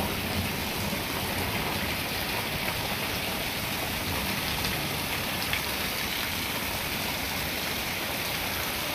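Heavy rain pours in a continuous, dense hiss that holds steady and loud throughout, with no voices or breaks.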